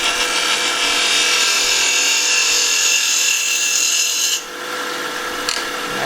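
A wooden acorn box spins on a lathe as a tool cuts its bottom, riding up toward the center to remove the nub. A loud, steady, hissing scrape continues throughout, then drops abruptly to a softer rasp.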